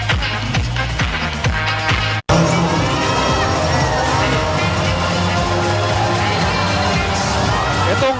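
Close to 19,000 basketball fans cheering in an arena during a Christmas Day Ginebra versus Purefoods game, a loud sustained roar of shouts and whistles with a brief cut partway through.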